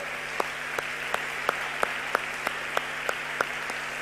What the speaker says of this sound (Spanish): De un aplauso allí a la palabra de Dios